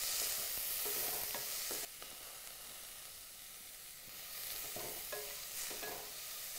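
Vegetables such as cabbage, capsicum and green chillies sauté in a pan for upma. A steady loud sizzle and hiss runs throughout, with soft stirring scrapes now and then.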